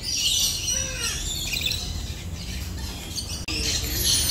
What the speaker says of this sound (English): Electus parrot. Come on, show me your face.